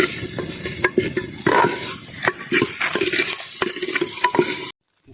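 Egg tempering frying in a pan for a village-style snack: continuous close sizzling with irregular sharp stirring clacks and scrapes of a utensil, steady throughout before cutting off abruptly near the end.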